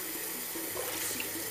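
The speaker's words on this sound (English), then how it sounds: "Wash your Swift FX in warm water with a mild liquid soap." Water runs from a tap into a sink while a Swift FX CPAP mask is washed in warm soapy water, a steady close hiss with faint splashing and no voices.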